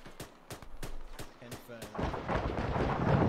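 Rocket explosions during a town assault in the ArmA 3 military simulation game: a rapid series of sharp, booming impacts followed by a dense, rolling rumble that builds and swells, with voices heard talking amid the blasts.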